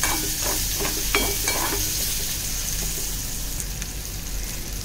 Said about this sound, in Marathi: कांदा टोमॅटो छान लाल होईपर्यंत आपल्याला ते परतून घ्यायचं आहे.